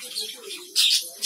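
Budgerigars in a breeding colony give short, bright chirps and chatter at close range, with a louder burst of twittering near the end over a soft background.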